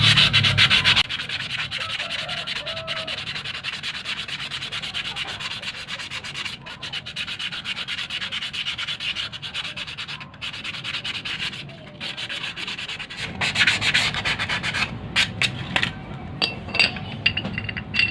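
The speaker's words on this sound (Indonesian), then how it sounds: "Saya cukup melakukan pengamplasan pada kampas rem tromol." Steady, coarse rubbing of sandpaper against a drum brake lining, continuous and close, with occasional faint metallic clinks.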